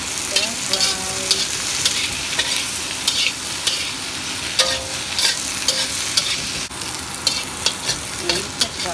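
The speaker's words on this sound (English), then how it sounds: "Lapas stir fry, medyo dry na siya." Okra and carrots stir-fry in a hot pan with a steady, loud sizzle and repeated scraping of a spatula throughout, close up, with no talking.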